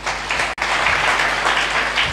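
A church congregation claps loudly together, a thick continuous roll of hand claps filling the space with one brief dropout near the start.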